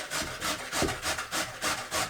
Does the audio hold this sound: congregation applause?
no